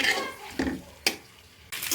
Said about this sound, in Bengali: ডিমটা আমি আগে থেকে ভেজে নিচ্ছি সিদ্ধ করে।